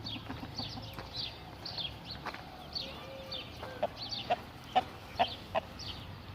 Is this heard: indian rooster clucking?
yes